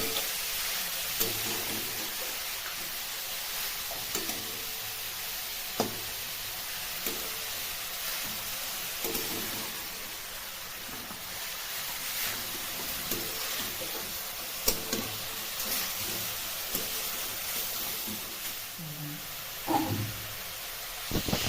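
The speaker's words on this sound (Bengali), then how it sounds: "আমি এটাকে ভালো করে ভেজে নিচ্ছি" Grated carrot for carrot halwa fries in a pan with a quiet, steady sizzle and hiss, broken by occasional soft scrapes and clinks of a utensil, with no one talking.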